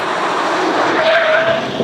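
Chevrolet Avalanche pickup truck on knobbly tyres cornering hard through a pylon course, a steady loud engine and tyre roar with brief thin tyre squeals rising near the end.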